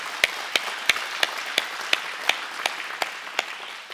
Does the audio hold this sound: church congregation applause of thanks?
yes